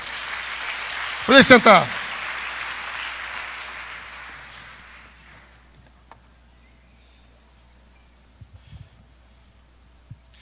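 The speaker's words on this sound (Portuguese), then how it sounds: "Você pode aplaudir ao Senhor?" A church congregation claps in a broad wash of applause that gradually dies away over several seconds. A voice briefly speaks during it, followed by quiet room sounds.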